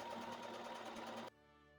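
A sewing machine stitches straight across the box corners of a tote bag's fabric lining, a steady close mechanical whir for just over a second before it cuts off abruptly.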